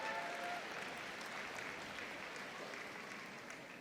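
Crowd clapping at the Crufts dog show during Hound Group judging, a faint, steady wash of distant applause filling the whole stretch without a break.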